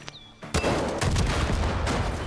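Gunfire from rednecks in the video game Far Cry 5: a loud, sustained fusillade of rapid shots that erupts after a brief quiet moment and keeps rattling without pause.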